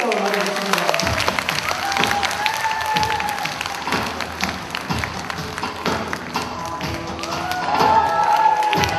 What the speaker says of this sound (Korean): 큰 박수로 맞아주십니다.